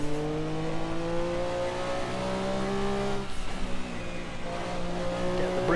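A Porsche 962C race car in Assetto Corsa drones steadily on the Nordschleife, its engine a loud, sustained harmonic roar with pitch rising and falling through gear changes, briefly dipping around a shift before pulling hard again.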